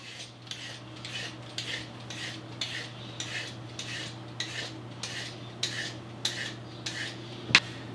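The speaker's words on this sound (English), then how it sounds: "I'm going to use 2 carrots. I have to peel them." Two carrots are peeled with a rasping scrape, a steady rhythm of about a dozen short strokes roughly half a second apart, close and fairly quiet over a low steady hum, with a sharper tap near the end.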